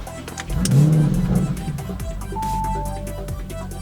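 A 2017 Audi RS6 Performance engine with an Akrapovic exhaust starts and revs loudly, then settles into a deep, rumbling idle, heard up close.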